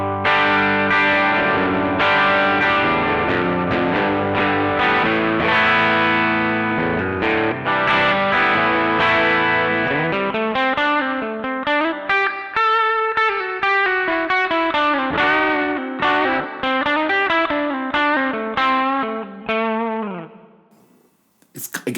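Distorted electric guitar through a TC Electronic Arena Reverb pedal on its pass setting, sustained chords and melodic lines carrying a short ambient reverb tail, loud and continuous before cutting off near the end.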